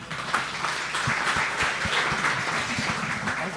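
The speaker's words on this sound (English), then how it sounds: "Another round of applause for Marty and Marianne." An audience at a cooking competition event applauds steadily, a dense wash of clapping that holds at an even level for a few seconds without anyone speaking.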